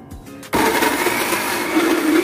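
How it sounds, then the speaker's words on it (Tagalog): A blender struggling with a cassava pitchi-pitchi mixture thinned with a little water kicks on after a brief pause and runs steadily with a loud, continuous whirring grind. "Mukhang hirap ang ating blender."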